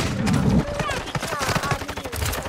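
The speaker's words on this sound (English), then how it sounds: "Taking fire over here." Gunfire in the video game Warzone: rapid bursts of automatic fire crackle and pop throughout, dense and fairly close, mixed with voices calling out over the shooting.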